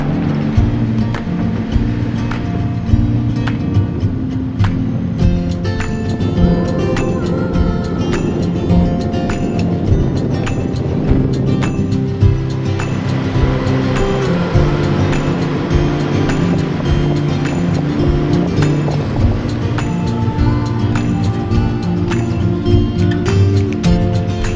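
A 23-year-old Honda Goldwing ridden along a country road in regional New South Wales and Victoria: a loud, constant engine drone mixed with heavy wind rush, with no talk.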